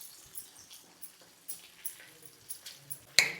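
Onions and fried gram dal roast in oil in a pan for egg burji, a faint sizzle broken by regular soft scrapes of stirring and a sharper clatter at the end.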